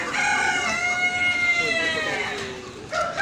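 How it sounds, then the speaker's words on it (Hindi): A rooster crows outdoors during an Eid al-Adha gathering, long drawn-out tonal calls rising and falling over about three seconds, fairly close and loud, with a short second call starting near the end. "मुर्गा मुर्गी वो मुर्गा जो है वो चीख रहा है"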